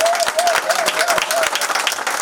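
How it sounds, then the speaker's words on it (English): Audience applause at a prosperity urgent care and mental health clinic launch event, a steady dense wash of many hands clapping throughout, close and fairly loud with no break. "Clap for him again."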